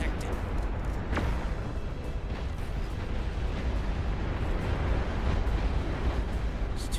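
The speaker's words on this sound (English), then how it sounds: "There's too many rockets." Rockets explode without pause during a massive battle in the real-time strategy game Beyond All Reason. A dense, rumbling barrage of blasts and sharp bursts stays loud and continuous throughout.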